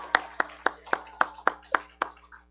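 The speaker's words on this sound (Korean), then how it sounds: "우리 예림자매한테 박수 한번 하겠습니다." Applause from a church congregation at a New Year's Eve worship service, heard as a string of eight or nine evenly spaced sharp claps at a moderate level, with a steady low hum beneath.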